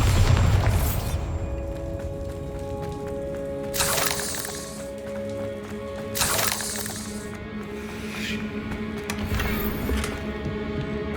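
Bombarda blasting spells go off in Hogwarts Legacy, three loud bursts spaced a few seconds apart over a low rumbling game soundscape, with no talking.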